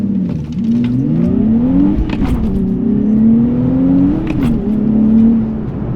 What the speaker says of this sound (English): So go ahead and accelerate here so you can hear what it sounds like.